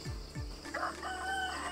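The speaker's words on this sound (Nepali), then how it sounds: "भाले नि बासे हो." A rooster crows in a Nepali village at dawn during the monsoon season, a drawn-out call heard at moderate distance over a steady low background hum, with no talking.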